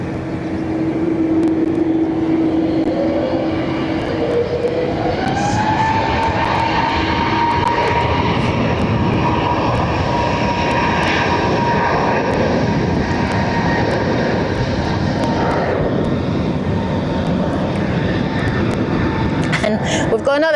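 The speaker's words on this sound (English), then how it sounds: "SAS going to Stockholm, Arlanda." An SAS airliner departs Barcelona airport bound for Stockholm Arlanda, its engines building into a loud, steady roar with a rising whine as it accelerates, continuing strongly throughout.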